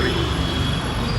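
Metro train in motion, a steady broad rumble of the carriage running on rails with low wheel noise throughout, heard from inside the car without any talking.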